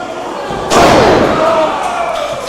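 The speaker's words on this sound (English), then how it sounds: "Slammed him right down, Kirby." A wrestler is slammed down onto the ring mat at a Reality of Wrestling TV show, one heavy booming impact followed by a lingering resonant rumble, loud and close.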